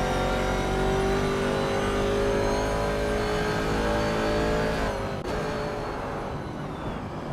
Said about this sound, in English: driving a classic 1970 Ford Mustang boss in the vintage Trans Am class